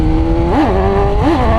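A motorcycle engine revving hard under strong acceleration, a loud, close, steady drone that rises in pitch twice in quick surges.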